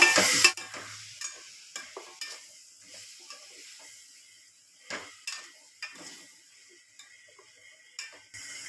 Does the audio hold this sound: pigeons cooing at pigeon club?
no